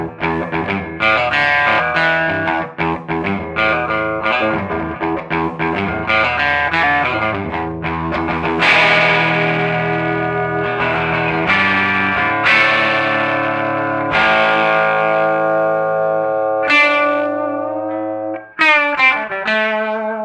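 Loud, distorted electric guitar roars through a cranked 1975 Twin Reverb amp, strummed chords and ringing notes sustaining with a gritty edge and no talking.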